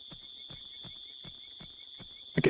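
Hooves clip-clop at a steady walking pace in the Horse Isle 3 video game: about seven soft, evenly spaced thuds, faint and alone, before a brief louder noise at the very end.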